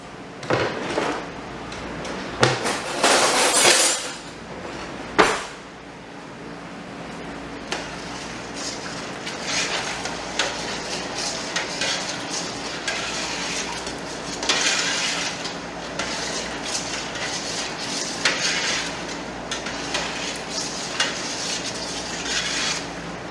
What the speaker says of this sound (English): what you saw me do there was dump rice in boiling water